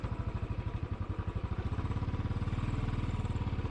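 A Royal Enfield Classic 500 single-cylinder motorcycle rides along with a steady, deep thumping exhaust beat that quickens slightly as it pulls away, close and loud, no talking.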